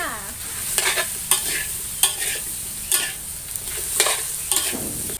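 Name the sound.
stirring sponge gourd stir-fry in a pan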